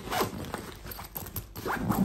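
A zipper on compressible packing luggage is pulled closed in several quick, scratchy strokes, heard close up and without talk.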